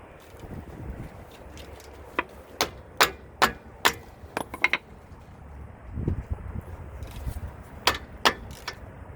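Sharp metallic hammer strikes on a 2009 Chevrolet Traverse brake caliper ring out one after another, about a dozen in all, some in quick pairs, close by and fairly loud, with light clattering between.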